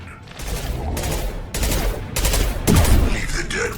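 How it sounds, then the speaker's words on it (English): Bursts of rapid gunfire from the sci-fi shooter game Mass Effect 2, several loud sustained volleys in close succession with short gaps, ending in a heavier blast. "Firing a high-impact shot."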